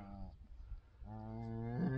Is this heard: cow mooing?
yes